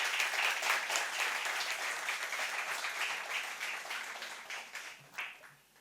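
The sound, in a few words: round of applause for the curation team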